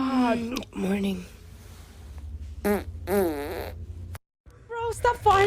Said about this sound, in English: Bro, stop farting, please.